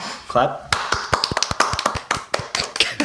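A small group of podcast hosts gives a brief, half-hearted round of clapping: a loose string of sharp, uneven hand claps spread over about three seconds, mixed with talking voices.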